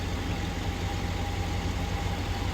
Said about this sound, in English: when you have a clicking noise caused by lifter, try this first